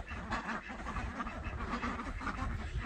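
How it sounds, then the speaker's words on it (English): Ducks quacking on an Ozarks homestead in Arkansas, a busy chorus of nasal calls overlapping continuously at close range, fairly quiet overall with no talking. "The ducks like to follow me because they think I'm going to feed them."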